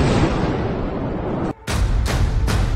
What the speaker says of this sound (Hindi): तड़के हुए ड्रोन से विस्फोट